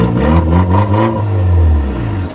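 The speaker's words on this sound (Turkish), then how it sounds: "Şu böylece bir 4000'e doğru getir bak çok güzel yırtıyor" A BMW F30 with 184,000 km revs toward 4000 rpm with its exhaust valve open, a loud, close, rising engine roar that holds steady across the whole clip.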